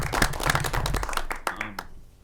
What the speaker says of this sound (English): So Bill, I want to give you a round of applause for all your service to the city of Robbinsdale.